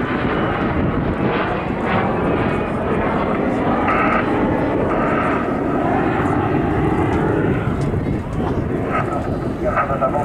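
A MiG-15 and a Vampire jet fly a pair display at the Southport airshow in 2018, giving a loud, sustained engine roar that fills the whole stretch, with voices underneath.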